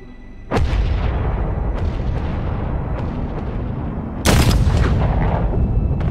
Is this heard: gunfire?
yes